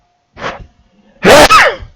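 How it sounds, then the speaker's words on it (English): A person's sneeze, a short preparatory breath followed by a loud, close, explosive burst that trails off quickly, alone with no talk. "I'm about to sneeze soon."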